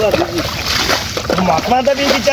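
Water scooped with a helmet and splashed onto a rice seedbed, making repeated sloshing splashes while people talk throughout.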